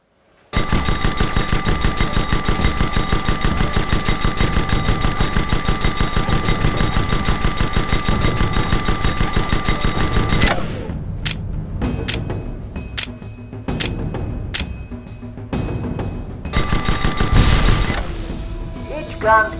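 Cannon fire from a ship's gun in the airship combat game Guns of Icarus Online, pounding a target dummy's hull: a dense, rapid stream of shots for about ten seconds, then scattered bursts and clanks.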